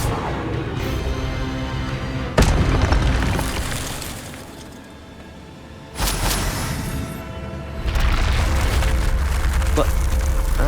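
In the Hogwarts Legacy video game, Incendio fire spells erupt as loud, sudden booms into roaring bursts of flame, with two sharp hits a few seconds apart and a sustained rushing blaze, over voices in a battle.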